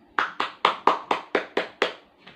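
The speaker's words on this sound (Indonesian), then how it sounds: "Coba beri tepuk tangan untuk kelompok 1." A small group in a classroom claps in a steady, even rhythm, about eight sharp hand claps close by, with no talking.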